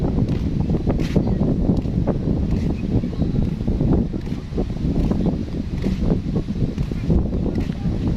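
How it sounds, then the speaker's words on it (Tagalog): Strong wind buffets the microphone in a steady, rumbling roar outdoors, with faint rustling underneath. "Masyadong mahangin"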